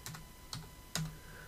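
Three separate keystrokes click on a computer keyboard, quiet and close, spaced about half a second apart in an otherwise still room.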